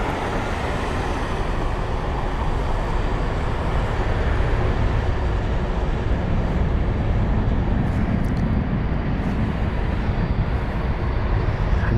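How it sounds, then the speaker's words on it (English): A British Airways Boeing 787 jet at London Heathrow airport gives off a loud, steady, broadband roar that holds for the whole stretch, with no talking. "There's a 787 now."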